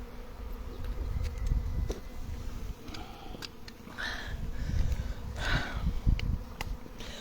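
Swarm of bees arriving at a baited hive, a dense continuous buzzing hum with individual bees droning past now and then, steady and fairly close outdoors.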